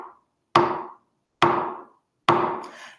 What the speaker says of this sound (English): we actually clap each time we see a footprint